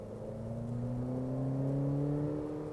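A 2014 Acura ILX's naturally aspirated four-cylinder engine revs steadily upward, its tone climbing smoothly over nearly three seconds at moderate, close-up loudness with no talking.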